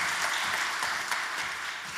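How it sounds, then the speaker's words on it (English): Audience applause at a net zero quarterly event: steady, dense clapping from a crowd fills the full two seconds at an even, moderate level. "Can we round of applause for Jess?"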